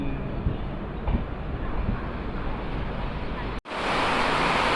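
Heavy rain lashes Kundapura railway station in a continuous roaring wash that breaks off for an instant and then returns louder and brighter.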